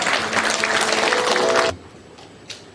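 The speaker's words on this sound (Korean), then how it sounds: "큰 박수로 환영해 주십시오." Audience applause welcoming the head of the hosting organization at a citizens' academy event: a loud, dense burst of clapping that cuts off abruptly partway through, leaving a quiet room with faint noises.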